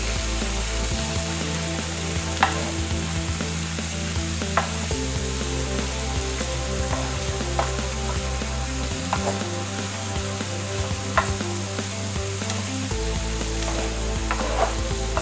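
Bakmie goreng noodles sizzling loudly in a hot wok while being stirred, steady frying crackle with intermittent scraping clicks of the utensil against the pan, close and continuous with no talking.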